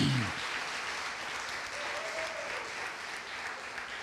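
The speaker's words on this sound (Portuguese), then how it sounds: "Vamos dar uma salva de palmas para Jesus." A church congregation applauds in a steady, fairly soft wash of clapping that lasts the whole stretch, with a brief low voice at the very start.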